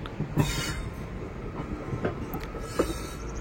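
The Puri Barbil Express train pulls out of Tangiriapal railway station in Keonjhar, Odisha, its carriages rumbling past with faint clicks and clacks of wheels on the rails.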